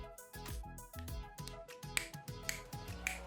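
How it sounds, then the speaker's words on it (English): Finger snapping heard as a run of crisp, fairly quick snaps over a steady musical backing, with no one talking. "I know you just snap your fingers to see"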